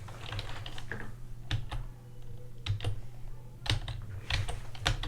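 Close computer keyboard typing comes in quick bursts of crisp key clicks with short pauses between them, steady and distinct against a low background hum, with no voice heard.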